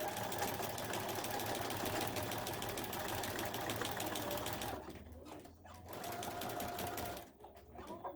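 A quilting machine stitches a quilt with a steady close mechanical whir for several seconds, then runs in shorter bursts separated by brief stops.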